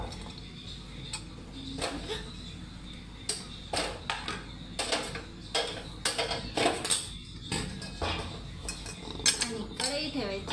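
Onion going into a kadhai while paneer is cooked in a home kitchen, heard as a series of metallic clanks and clinks of pan and utensils at close range, irregular throughout, with voices speaking faintly at times.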